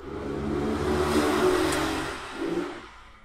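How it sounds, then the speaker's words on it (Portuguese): A motorcycle passes outside a house in a Brazilian neighborhood, its engine swelling in a broad rushing roar for about three seconds before it fades away. "não é fácil gravar porque a cada cinco minutos tem uma moto passando"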